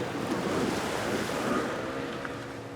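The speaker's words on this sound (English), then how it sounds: "A friend takes them to the edge of the bay, where the waves are breaking" Ocean waves breaking at the edge of a bay in Dakar, a steady, moderately loud rush of surf and wind noise with no voices.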